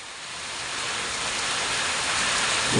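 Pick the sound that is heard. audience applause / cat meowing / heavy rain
heavy rain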